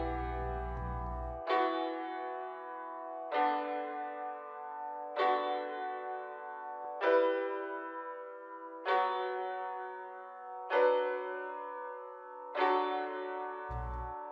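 Strummed piano chords in an FL Studio drill beat melody pattern, seven evenly spaced rolled chords each ringing and decaying before the next, with a low bass hit at the start and end, clean and alone.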